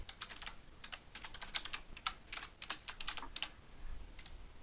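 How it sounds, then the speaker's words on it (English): Map coordinates keyed into an input box on a computer keyboard, a quick, fairly faint patter of light key taps in short bursts with brief pauses, no voices. "I'm going to type the coordinates in the box."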